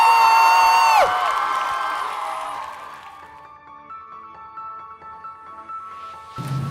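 A university audience at a diversity monologues event gives warm applause and cheers for a performer; a bright whoop opens it, then the crowd noise swells and slowly tapers off under lingering tonal sounds.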